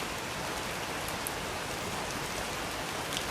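Steady rain falls, a dense even hiss of drops on surfaces with no other sounds.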